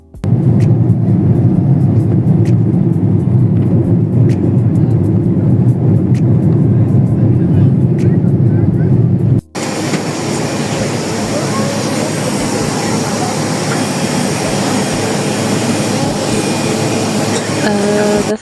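An airplane landing on a runway at the end of an international flight from Cape Town to Kenya: a loud, steady cabin roar that abruptly gives way to a different, hissier rumbling noise partway through.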